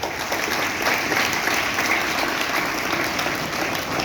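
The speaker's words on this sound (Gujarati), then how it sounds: "આપણે એને ખૂબ તાળીઓથી વધાવીશું." Steady, dense audience applause fills a school result celebration at a high school, continuous and fairly loud from start to finish with no voices standing out.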